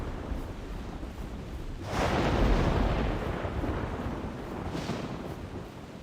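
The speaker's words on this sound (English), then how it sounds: "I won't talk too much until the storm passes." Thunderstorm in the hunting video game theHunter: Primal, with a loud rolling thunder crash building midway over steady rain and wind noise and fading slowly, plus a fainter rumble later on; no one speaks.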